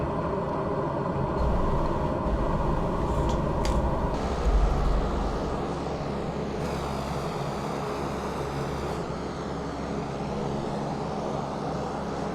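A formation of C-130 transport planes flying low, at about 700 feet, over Alaska in Microsoft Flight Simulator 2020. Their engines make a loud, steady, broad drone that never stops, with a slight swell near the middle.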